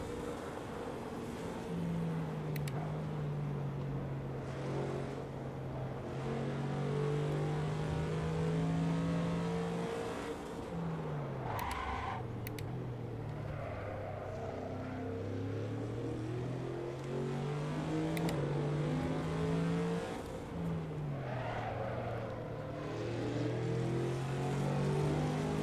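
A race car's engine revs and shifts continuously while lapping Brands Hatch in the Assetto Corsa racing game, rising and falling through gears and easing off around corners in a loud, steady drone with no talking.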